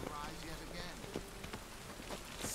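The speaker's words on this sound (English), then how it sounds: "Looks like rain" Steady rain in the video game The Witcher 3: Wild Hunt patters on surfaces throughout, a constant soft hiss with occasional heavier drops.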